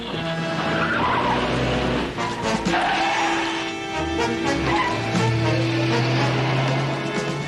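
Car tyres screech and skid loudly under hard braking, long squealing tones rising and falling over engine noise, close and intense.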